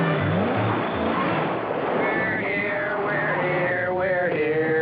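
An old jalopy rattles up at close range with a loud, steady engine drone that shifts pitch as it arrives, wind buffeting throughout.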